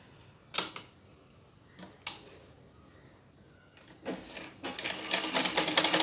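A sewing machine stitches blouse fabric after a few separate clicks and clunks of handling: the motor then starts a rapid, even, close chattering run that grows steadily louder.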